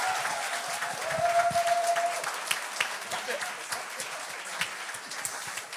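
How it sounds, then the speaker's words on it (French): A live comedy-show audience claps and applauds for a comedian named Sam, sounding as dense, sustained clapping from a crowd that tapers off while a voice speaks over it. "applaudir Sam!"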